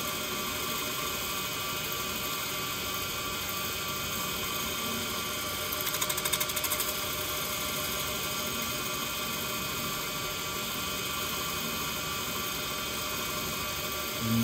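A wood lathe spins a platter while a tool makes a light finishing cut, giving a steady, close mechanical hum and whir. A faint scraping swells briefly in the middle, and no one talks.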